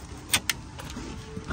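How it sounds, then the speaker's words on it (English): Electric power window being wound up on a lorry cab in the rain, a short motor whir with a couple of sharp clicks or taps near the start, heard close with quiet background. "I'll do the window up on here because it's raining."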